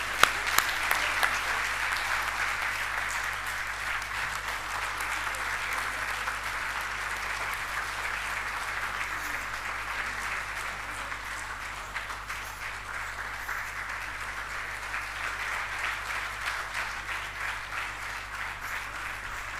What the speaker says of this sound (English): Keep the applause coming, ladies and gentlemen.